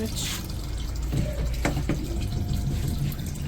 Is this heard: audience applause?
no